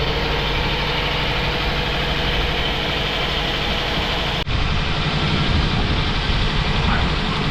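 A Toyota Altis engine idles with heavy vibration, giving a steady, loud mechanical drone with rattling hoses and air cleaner, and a brief dropout in the middle.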